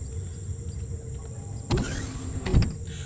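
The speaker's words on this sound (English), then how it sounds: "Sorry for that door sound, it just happens when you work near doors." A door in the space-survival game Empyrion Galactic Survival slides with two quick mechanical whooshes about a second apart, set over a steady hum.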